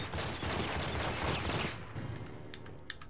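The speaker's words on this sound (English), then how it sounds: "That's a grenade." Grenade blast from the Enter The Matrix video game: a loud, dense burst of explosive noise that rumbles for about two seconds, then decays into a quieter tail with a couple of small sharp ticks.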